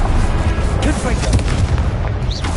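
A Confringo fire spell blasts in Hogwarts Legacy: a loud, dense booming explosion with crackling fiery noise that fills the whole moment without pause.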